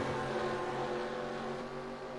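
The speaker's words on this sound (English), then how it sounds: "I'm hearing an idling engine up ahead." Idling car engine in a NASCAR-style Xfinity Series racing video game at the Rio track, a steady low drone that holds at an even level throughout with no voices.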